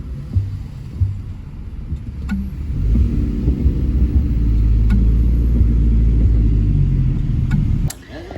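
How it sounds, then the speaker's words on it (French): A rental car on Réunion Island, its engine giving a steady low rumble and hum that swells after a few seconds and holds close and loud, then drops off near the end, with no talk. "Là ça c'est notre voiture."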